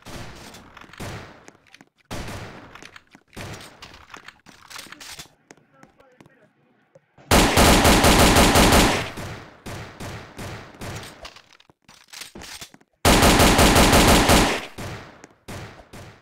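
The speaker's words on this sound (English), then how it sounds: "This gun is so heavy." A heavy gun in a video game fires in two long, loud, rapid automatic bursts, with scattered single shots and other game noise in between, while someone talks.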